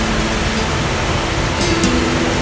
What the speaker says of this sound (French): Ça sera la cascade Fracabaz.